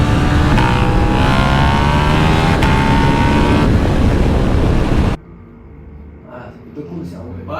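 A turbocharged Yamaha Niken motorcycle roars past on a race circuit, a loud, close engine with rising high-pitched whine that cuts off abruptly into a much quieter, muffled rumble.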